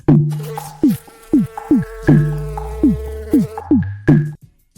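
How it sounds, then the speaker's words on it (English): A bee sound effect buzzing in short repeated bursts, about eight rising-and-falling pulses, loud and close with no talking. "Oh, where's my little bee?"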